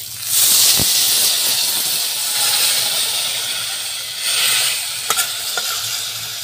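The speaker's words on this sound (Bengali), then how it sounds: "এবার আমি জল ঢেলে দিচ্ছি।" Water poured over spiced fried hyacinth beans in a hot pan bursts into a loud hissing sizzle of steam that fades and then swells again, with a few sharp utensil clicks near the end and no speech.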